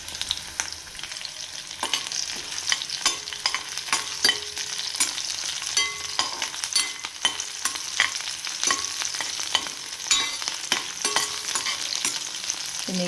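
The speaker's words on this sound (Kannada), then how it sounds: "ಈರುಳ್ಳಿ ಫ್ರೈ ಆಗ್ತಾಯಿದೆ." Onion and curry leaves frying and being stirred in a new pan, a steady close sizzle with irregular scraping stir strokes throughout, no talking.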